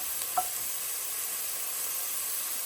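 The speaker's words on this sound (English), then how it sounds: "I'm going to saute these until they're a little bit softer" Vegetables softening in a pan with a little olive oil give a steady, faint sizzle, with one small clink early on; close and quiet, no voices.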